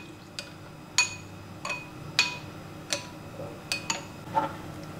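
A spoon clinks against a bowl several times while chia seeds are stirred into overnight oats, a series of sharp, fairly close taps spaced about half a second to a second apart over a quiet background.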